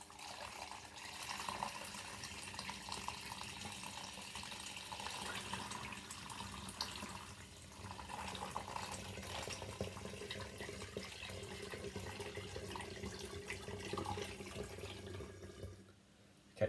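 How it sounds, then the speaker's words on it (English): Boiled water pouring into a container for home brewing: a steady, continuous stream that runs for a long stretch and then cuts off abruptly near the end. "I've just filled this up with a bit more boiled water and given it a really good shake"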